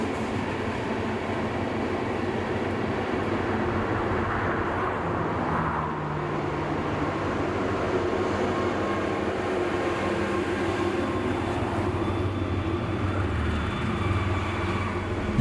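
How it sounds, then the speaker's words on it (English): A long freight train of loaded wagons on the Sishen–Saldanha iron ore line rumbles steadily past, a dense continuous roar of wheels and rattling cars with faint squeals, close and loud throughout with no talk. "As we come to the end of the first section of 114 wagons"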